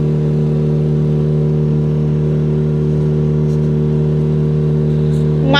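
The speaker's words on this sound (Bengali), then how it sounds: "এবার আমাদের বোট আমাদের নিয়ে যাচ্ছে আরিয়ানকুপ্পাম রিভার মাউথের দিকে।" Motor boat engine running steadily on a mangrove-lined river heading toward a river mouth, a loud, continuous droning hum with a constant pitch and no breaks throughout.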